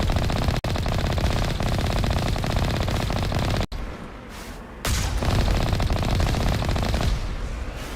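Sustained rapid automatic gunfire from the video game Mass Effect Legendary Edition as turrets are shot and destroyed, loud and dense with a brief pause midway before the firing resumes.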